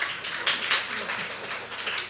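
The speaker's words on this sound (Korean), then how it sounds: "박수 한번 주세요." A church congregation applauding in a sanctuary, a brief patter of moderately faint clapping spread across the room, with no one speaking.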